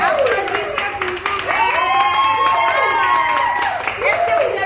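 Audience at a Guinean African culture top model pageant clapping and cheering continuously, with shouts and voices rising over the steady applause throughout.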